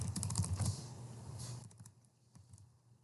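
Quick, light tapping of keys on a computer keyboard, close and fairly quiet, in a steady burst that thins out toward the end.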